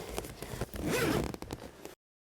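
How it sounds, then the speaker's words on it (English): A zipper on the zippered opening of a camera hide is pulled in one close, quick stroke lasting about two seconds, with soft scraping before and after; no talking. "you can see it has zippered openings"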